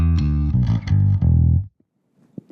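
Bass guitar played through a compact gigging pedalboard with a cab simulator, giving a few loud, sustained distorted notes for about a second and a half before cutting to near silence with faint trailing noise.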